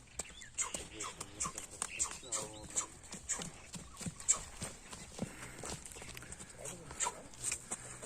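A black horse with a white blaze led around in a circle outdoors, its hooves giving a steady run of light clip-clop knocks at walking pace while someone talks over them throughout.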